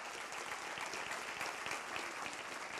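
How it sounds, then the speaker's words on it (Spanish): A church congregation at an Easter service bursts into sustained, dense applause, even and continuous for the whole stretch with no talking over it. "Yo creo que esto dan ganas de darle un aplauso al Señor"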